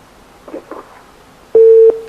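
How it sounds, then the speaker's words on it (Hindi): A telephone line gives a short steady beep tone after a caller's connection drops during a live broadcast, clear and close, preceded by a few faint brief blips over a quiet line. "कॉल ड्रॉप हो गई, दोबारा ट्राई करें"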